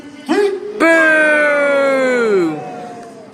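Crowd at a Scarborough naval battle show booing together on cue, a loud sustained sliding boo that follows a brief shout and holds for around two seconds before fading.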